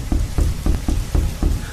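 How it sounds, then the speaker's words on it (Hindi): Rain pours down steadily with a rhythmic pattern of heavier bursts, dense and close, with no voices. "जोरदार बारिश हो रही थी"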